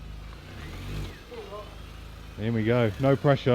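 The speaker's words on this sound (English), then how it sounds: "Miriam's getting the car in for us to start some work." A low engine rumble rises from an R53 MINI Cooper S as it is driven into a garage, mostly buried under people talking nearby.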